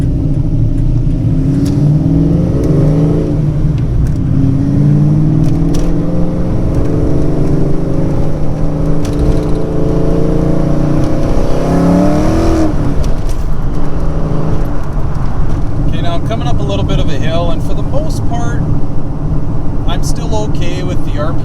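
A cammed Foxbody Mustang 5.0 V8 rolling along in fourth gear at low revs, a loud, steady, lopey rumble that fills the whole stretch, with someone talking over it throughout.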